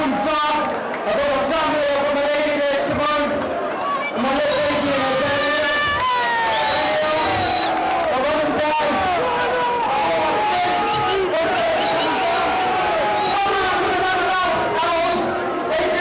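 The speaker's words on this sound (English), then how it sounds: "the crowd going berserk there" A boxing crowd at an unlicensed fight cheers and roars loudly and without pause, dense babble and shouts filling the hall, with an announcer's voice running over the din.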